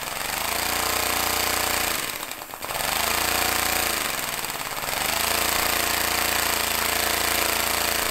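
A small air-powered engine runs at a very low idle, a loud, even, rapid chugging that dips twice as the speed wavers before settling back to a steady beat.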